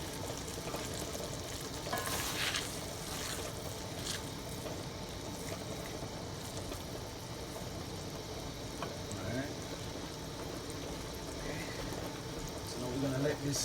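Butter melting in a pot for a seafood boil sauce gives off a soft, steady sizzle and bubbling that continues throughout, fairly quiet.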